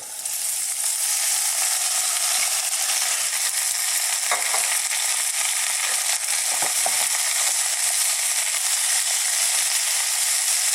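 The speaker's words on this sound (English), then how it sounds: "Just as it changes colour, just slightly, is when we're now going to add our greens. In they go." Collard and kale greens hit ginger-infused oil in a wok, bursting into a loud, dense, unbroken sizzle that holds steady throughout, with a few faint utensil scrapes.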